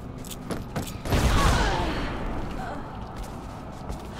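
Explosion in the video game Lara Croft and the Temple of Osiris: a loud, broad boom bursting out around the one-second mark and fading slowly over a few seconds, with lighter game sounds and chatter before it.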